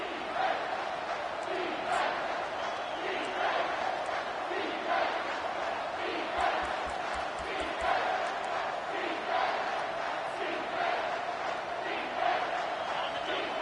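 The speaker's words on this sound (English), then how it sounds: "This crowd rising up, sensing that its defense needs some help." Stadium crowd at a football game roaring steadily throughout, a loud continuous wash of cheering and shouting with swells and a few sharp whistles, heard alone without commentary.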